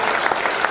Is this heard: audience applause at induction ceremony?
yes